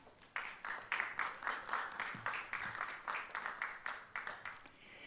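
Audience applauds at an award ceremony during the opening of a Korean bio industry trade show, a steady burst of many hands clapping that swells after the first moment and holds fairly evenly, with faint voices beneath.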